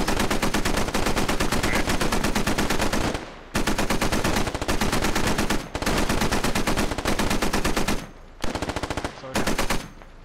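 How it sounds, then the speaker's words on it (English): Loud, close machine-gun fire in the tactical shooter Squad, long sustained bursts of rapid shots broken by a few brief pauses, dominating throughout with no talking. "shots incoming on the MAV-V. MAV-V returns fire."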